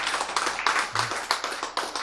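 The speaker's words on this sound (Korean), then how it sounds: "예, 박수!" Audience applause at a Korean church gathering, a dense burst of many hands clapping for about two seconds, close and fairly loud.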